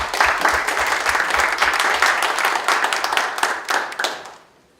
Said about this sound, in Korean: 뜨거운 박수로 김장실 부원장님을 모셔보겠습니다.